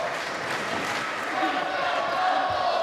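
Arena crowd at a professional wrestling tribute show, a steady broad roar of many voices that swells slightly louder midway, with scattered shouts and no clear talk over it.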